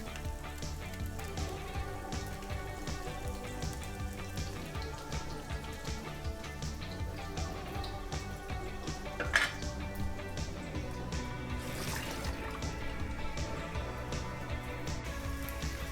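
Garlic dropped into hot oil in a pan fizzes with a steady, close crackling sizzle that carries on evenly under a few faint clinks of utensils, while a prawn and spinach curry is being cooked.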